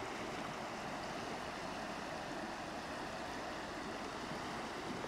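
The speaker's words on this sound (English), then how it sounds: "Looking straight down at the river." Arkansas River flowing in the Colorado mountains a few miles east of Salida, heard from above as a steady, even wash of moving water, soft and continuous with no voices.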